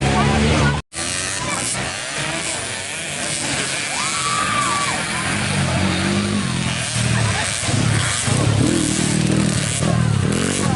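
Motorcycles roar during a practice session at the Raja Tombolotutu circuit in Tinombo ahead of a national championship, a continuous loud engine drone with revving swells while people talk over it.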